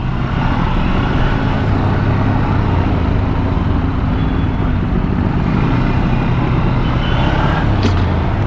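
City traffic heard from a moving Honda CB Hornet 160R motorbike: a loud, constant roar of engines and road rumble with wind noise, steady throughout, with no speech.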